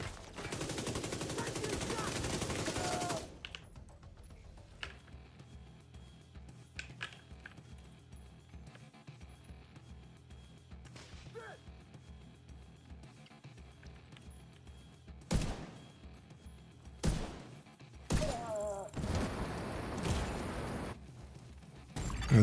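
A video game weapon fires in a sustained automatic burst at the start, then scattered sharp shots and short bursts follow later amid quieter stretches, with people talking faintly at times.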